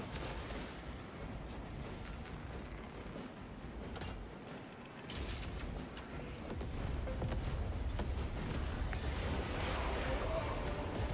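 Detonation explosions in the video game Warhammer 40k: Space Marine 2, a dense, loud roar of blasts and rumbling with a brief dip midway, then a fuller sustained barrage continuing to the end.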